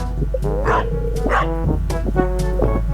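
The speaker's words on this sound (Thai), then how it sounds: "หมาเห่า" A dog barks several times in a loud, irregular series over a steady low hum, with some whimpering yips between the barks.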